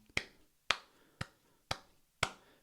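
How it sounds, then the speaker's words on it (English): Five single hand claps, evenly spaced about half a second apart, crisp and close in an otherwise quiet room. "You're going to get 5 claps on this one"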